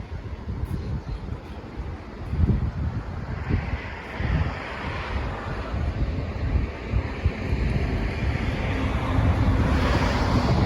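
Floodwater on the Chi River rushes past in a continuous, broad roar, with wind buffeting the microphone. The churning wash swells and surges slightly but never stops, and no one speaks.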